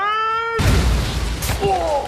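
A cannon-style boom in a small business loan advertisement hits hard after a sustained musical tone, followed by a broad rumbling burst and a brief sharp crack, then a fading tonal sting.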